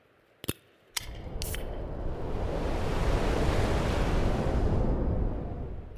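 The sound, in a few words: opening a drink can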